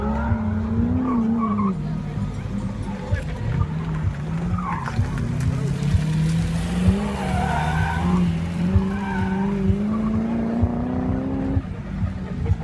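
Race cars, a Honda Civic EK and a BMW E30 with a V8, heard at a motorsport event as a loud engine drone with rising and falling revs and tire squeal, continuous and close with faint voices beneath.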